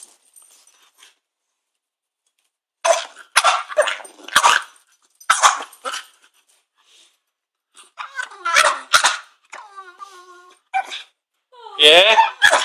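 A Staffordshire terrier barks in loud, sharp bursts and snarls between them, with stretches of silence in between.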